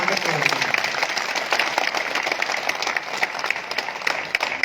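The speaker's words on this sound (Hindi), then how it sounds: "एक बार फिर जोरदार तालियों के साथ में स्वागत करें।" Audience applause at a ceremony honouring kar sevaks: dense, continuous clapping from a crowd fills the clip at even strength, with a voice faintly underneath.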